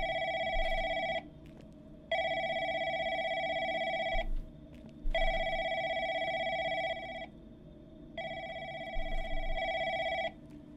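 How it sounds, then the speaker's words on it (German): An old-style telephone bell ringing in a horror video game set in a call center, four long electronic rings separated by short pauses, clear and steady, with no talking. "Wo klingelt das Telefon?"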